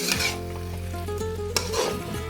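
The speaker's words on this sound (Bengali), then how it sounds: "প্রথমে এঁচোড়গুলোকে মশলার সাথে মিনিট 5 জন্য কষিয়ে নেব" Jackfruit frying with spices in a pan for a spiced curry, giving a loud continuous sizzle up close, with stirring scrapes and a sharp utensil clink partway through.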